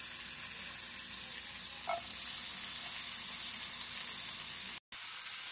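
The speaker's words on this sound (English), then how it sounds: "Bacon started." Peppered bacon frying in a pan, a steady close hiss and crackle of sizzling fat that runs unbroken for several seconds and cuts out briefly near the end, no voices.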